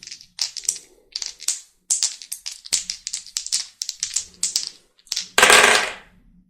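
Tarot dice rattle and clatter in a quick series of sharp taps and rolls, ending in a louder scraping burst as they settle, close up with no talking.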